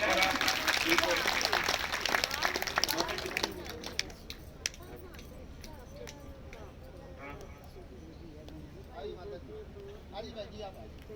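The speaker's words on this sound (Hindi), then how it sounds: "अच्छे मन से तालियां बजाएं" An audience claps at a Bhagwat religious gathering. The applause is loud and dense for the first few seconds, then thins to scattered claps as a voice talks.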